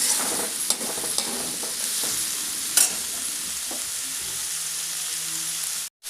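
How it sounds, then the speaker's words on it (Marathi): Leftover tomato, carrot and cucumber sautéing in a pan, a continuous bright sizzle with a few scraping stir clicks, steady and close, ending in an abrupt cut. "राहिलेल्या भाज्याही आपण त्यामध्ये घालणार आहोत जसं की टोमॅटो गाजर आणि काकडी परतवून घेऊया"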